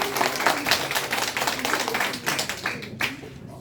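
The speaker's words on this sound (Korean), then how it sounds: "큰 박수로 부탁드립니다." A room full of people applauding loudly to welcome a lecturer to a talk, with continuous rapid clapping that holds steady and then thins slightly near the end.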